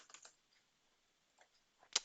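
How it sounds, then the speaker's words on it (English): A computer keyboard gives a few quiet, scattered keystrokes, a short burst at the start, a long pause, then a couple of taps ending on one sharper click, close by in a silent room. "let's just put my name down by typing in my part of my email address"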